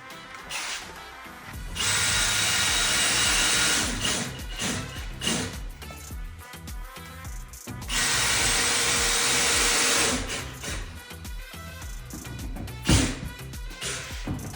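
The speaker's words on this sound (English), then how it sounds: "With a grinder." An angle grinder cuts through a long screw during a Swiss Madison warmer installation, sounding in two loud, steady bursts of a few seconds each, with quieter handling and clattering noises in between.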